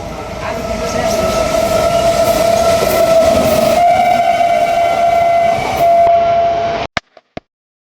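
A train runs on rails during a trip to Bongaigaon, a loud steady rumble with a sustained whistle-like tone for several seconds before it cuts out into a few sharp knocks, with no talking.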